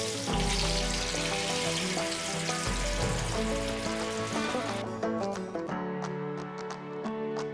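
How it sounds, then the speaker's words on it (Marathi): Konkani kombdi vada dough deep-frying in hot oil over a medium-high flame, a loud, continuous bubbling sizzle that thins into sharper crackles and pops in the second half, with no talking. "आता वडे आपण तेलात सोडूया."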